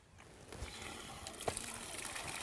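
Water flushes through the filter of a Jacto farm sprayer in a soft, continuous sloshing trickle with small splashes, close and fairly quiet.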